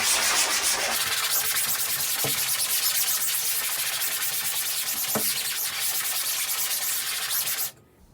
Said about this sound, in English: We're going to flip to the other side and scrub the other side.